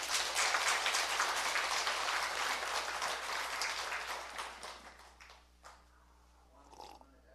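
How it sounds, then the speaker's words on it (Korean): Audience applause for the head monk at an all-night prayer service at Doseonsa temple on Samgaksan, dense and loud at first, then thinning and fading away, with a few scattered sounds after it dies down. "주지 큰 스님께 박수 한번 치셔야 되겠죠"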